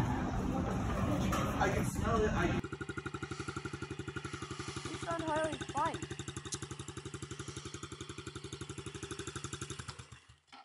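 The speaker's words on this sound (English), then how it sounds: "we're gonna go rip the pit bike today, boys." A small pit bike engine runs with a steady, rapid pulsing beat after a loud opening stretch, revving briefly mid-clip before settling, fairly close and continuous throughout.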